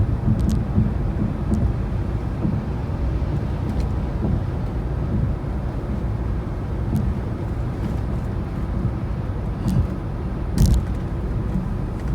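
A 2016 Mercedes-Benz S550 sedan cruising smoothly, with a steady low road and cabin rumble, a faint wind hush and occasional light knocks and clicks inside.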